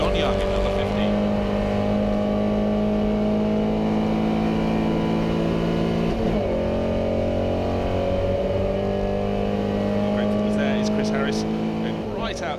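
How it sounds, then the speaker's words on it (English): Vintage Porsche and Jaguar racing cars roar around the Goodwood Revival circuit in the Fordwater Trophy, engines droning loudly and steadily and shifting in pitch as they pass, with commentary speech over the top. "Chris Harris trying to hang on in the little Porsche as they go down to Madwick, but just that little bit more poke from the Jaguar"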